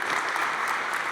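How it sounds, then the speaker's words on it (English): Steady, dense applause from an audience at a benefit fundraiser, celebrating donors; a continuous wash of clapping with no talk over it. "let's give everybody that has donated at this point a big round of applause"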